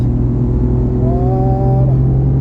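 A race car on a track circuit holds a steady, loud engine drone at constant throttle, with a rising whine in the middle as it keeps accelerating, close and unbroken throughout.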